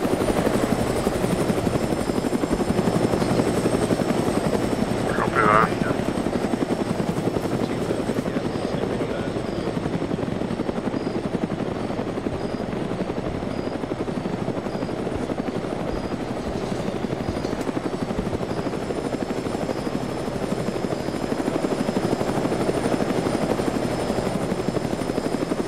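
A helicopter arrives to pick up troops, its rotor thrum loud and continuous from start to finish, with no voices over it.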